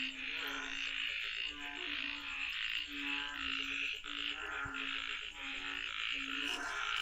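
Frogs croak in a dense chorus on a rainy mountain at night, a steady pulsing drone of many overlapping calls repeating in rhythmic bursts, close and continuous with no talk.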